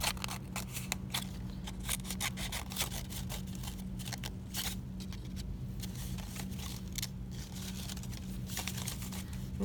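Scissors snipping through two stacked paper strips at once, a rapid run of close crisp cuts with faint rustling of paper between them, no talking.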